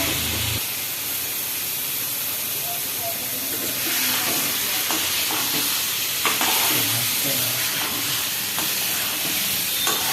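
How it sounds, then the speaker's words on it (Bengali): Chicken bhuna pieces fry in a pan, a loud, dense sizzle with steamy hiss running throughout, under intermittent scraping as the meat is stirred. "মাংস দেখে তো কি সুন্দর একদম কষানো হয়ে গেছে"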